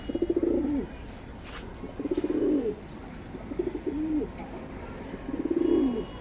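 A pair of racer pigeons coo near at hand, the male courting the female, in four rolling, throaty coos spaced about every second and a half over a faint background hiss.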